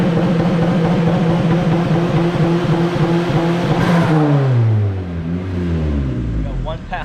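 A modified car with a new manifold revs hard on a dyno during a power run, a loud steady high-rpm engine roar that holds, then drops and winds down as the throttle closes, with voices talking over it.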